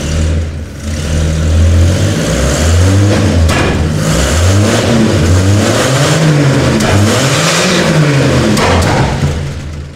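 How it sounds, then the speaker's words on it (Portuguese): A Chevrolet C10/C14 engine is revved repeatedly, swelling from a low idle into loud, close, sweeping rises and falls that run steadily through the whole stretch without speech. "Mas vamos lá, Milton, dá partida aí pra nós"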